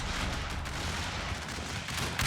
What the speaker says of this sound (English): we got enemy artillery coming in here